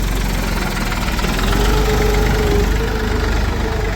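A tractor engine runs steadily at a demonstration of several tractors. The deep, rumbling drone is close and loud and holds an even, knocking rhythm throughout, with no voices.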